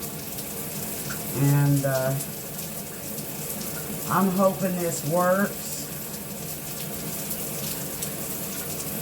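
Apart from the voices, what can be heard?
new filtered shower head running water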